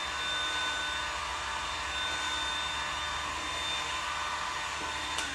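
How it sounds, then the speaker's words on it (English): A heat gun runs at near-maximum airflow while a plastic joint is heated for bending, a steady loud whooshing blower roar that holds constant throughout. "I got it on pretty much max airflow here."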